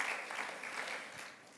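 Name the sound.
congregation applause in church service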